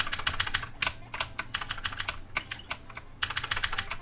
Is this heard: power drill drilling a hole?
no